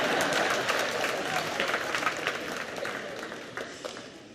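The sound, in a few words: audience clapping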